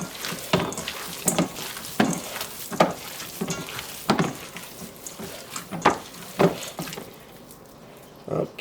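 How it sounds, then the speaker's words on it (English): Tomato sauce for stuffed peppers bubbles in a pan, with irregular pops and soft sizzling rising over a low, steady cooking hiss, close and fairly quiet. "I can hear our tomato sauce starting to bubble"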